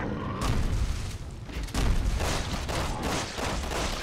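Gunfire rattles in Resident Evil 6 at Edonia City Hall, a dense, continuous volley of loud shots and booms with sharp bursts punctuating the barrage throughout.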